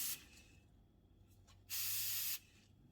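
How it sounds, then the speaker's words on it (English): Airbrush spraying heavily thinned paint, about 70% thinner to 30% paint, set for a fine spray onto a 1/48 ICM Bristol Beaufort Mk.I model kit: a short opening hiss, then a loud, steady half-second burst of close airy spray. "Wind the adjustment in, so I got a fine spray."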